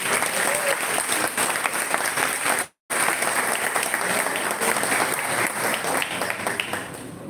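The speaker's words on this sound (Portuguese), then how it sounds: "Recebam com aplausos o palestrante Éden Lemos." A large audience at a spiritist conference applauds to welcome a speaker, a dense, even wash of clapping that continues loudly, broken by one abrupt brief dropout partway through.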